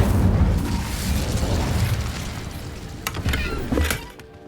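An Incendio fire spell going off in Hogwarts Legacy: a loud, sustained whooshing burst of fire with a rumbling blast that fades over a few seconds, followed by a couple of sharp crackling pops.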